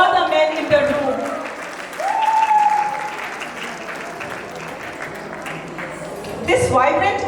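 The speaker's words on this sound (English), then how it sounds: "please give a big round of applause to all the men in the room" Audience at a Malton women's council event applauding the men in the room, a sustained spread of clapping heard under a speaking voice, with a rise in volume near the end.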